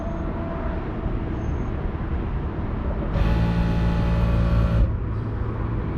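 A Rivian R1T's onboard air compressor inflates a tire, its steady motorized drone rising for a sustained pulse of about two seconds over outdoor background noise.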